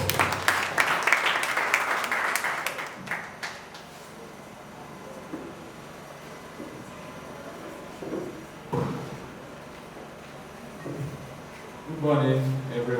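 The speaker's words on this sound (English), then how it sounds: "A round of applause." Applause from an audience at an interschool debate competition bursts out loud in the opening seconds, then fades into quieter room noise with scattered thumps and a voice near the end.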